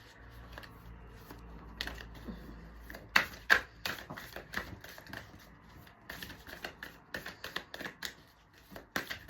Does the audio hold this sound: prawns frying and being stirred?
no